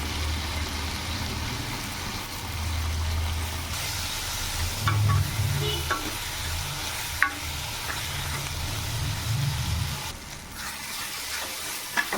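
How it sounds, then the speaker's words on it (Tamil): Tomatoes sautéing in a pan for sambar, with a steady sizzle and hiss under repeated stirring scrapes and a few sharp utensil clicks, close and moderately loud throughout. "இப்போது தக்காளி நல்லா வதங்கிட்டு"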